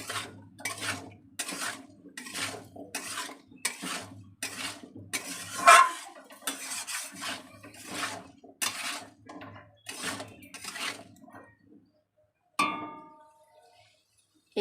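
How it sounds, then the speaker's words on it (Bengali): A spoon scrapes and clinks against a pan while stirring a shrimp curry with yardlong beans, potato, eggplant and papaya, in a steady rhythm of strokes for about twelve seconds before stopping. "এইভাবে নাড়া দিয়ে একটুখানি কষিয়ে নেব।"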